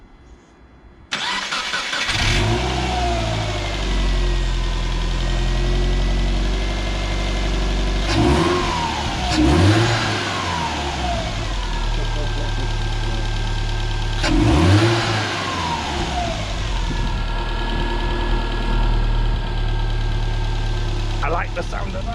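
A turbocharged car engine with a newly installed pod air filter cranks and fires, settles into a steady idle, then revs up twice with audible induction and turbo noise, close and loud.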